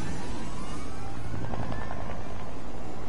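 A helicopter flies overhead, a loud roaring rotor and engine noise with rhythmic blade chop, close and dominating throughout.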